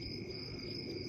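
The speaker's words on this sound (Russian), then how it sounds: "И слышите, как сверчки сверчат?" Crickets chirp at night in Namibia in a steady, dense insect drone with sustained high-pitched trilling. The sound is continuous and moderately loud, with no talk.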